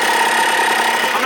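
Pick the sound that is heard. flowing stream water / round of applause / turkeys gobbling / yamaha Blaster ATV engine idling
yamaha Blaster ATV engine idling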